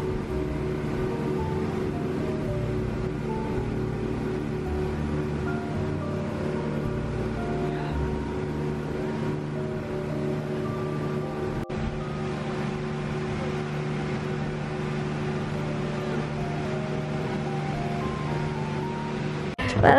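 A boat ride across rough sea waves off Boracay, with a loud, constant droning hum of the boat over rushing water and wind buffeting the microphone, steady throughout with no talk.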